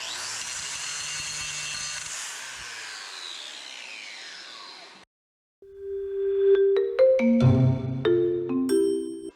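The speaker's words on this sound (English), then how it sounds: "Hit this real quick with the grinder." An angle grinder cleaning up a welding rod, a loud steady whining grind with a descending pitch that cuts off abruptly, followed by clanking metallic knocks and rattles.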